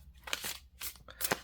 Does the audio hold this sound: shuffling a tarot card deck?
yes